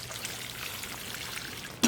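Fish fertilizer solution is poured from a container onto a potted fig plant's leaves, making a soft, continuous trickle with a brief louder splash right at the end.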